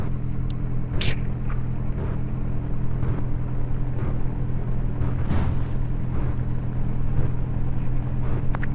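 An aircraft engine runs at full throttle for takeoff with flaps set in Kerbal Space Program, a loud, constant droning rumble with a steady low hum and occasional faint clicks.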